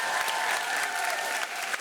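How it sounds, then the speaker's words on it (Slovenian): Crowd applause for a school cup-stacking team at a competition, steady dense clapping filling the whole moment without a break. "Lahko zaploskamo za dobro tekmo."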